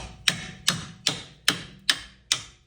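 Six sharp metallic hammer strikes on car suspension parts, struts and sway bar links on a 2001-2012 Ford Escape or Mercury Mariner, land at an even pace, each ringing briefly, close by in a quiet space.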